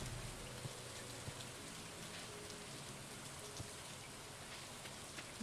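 Rain falling in Stardew Valley, a soft, even patter of drops steady throughout, faint and distant with no other sounds.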